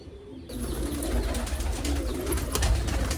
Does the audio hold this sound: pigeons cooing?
yes